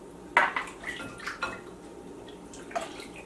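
Bread dough mixture with melted butter and salt stirred in a bowl, a few close scraping and clinking strokes of a utensil against the bowl, irregular and fairly quiet.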